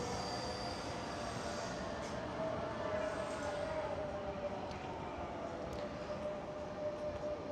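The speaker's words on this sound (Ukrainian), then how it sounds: "Ось ще один потяг. Це він з Барселони приїхав." Passenger train from Barcelona passing through a Costa Brava resort: a steady, loud, continuous rumble of rolling wheels, with a thin rising squeal partway through, alone and close by.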